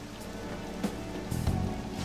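Steady rain falling in the Persona 5 video game, a soft continuous hiss with a couple of slightly louder patters, fairly quiet and alone.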